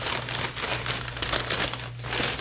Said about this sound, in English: I am using this box, and then I'm going to line it with paper.